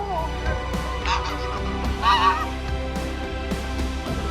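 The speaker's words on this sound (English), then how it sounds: "this goose squad will deal with anyone who dares to approach their beloved grandma" A small flock of geese honks in short, repeated calls close by, over a steady low background hum.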